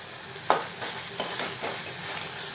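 Tomato chutney with lemon is stirred in a hot pan, a spoon scraping through it in a few distinct strokes over a steady, soft sizzle, with no talking.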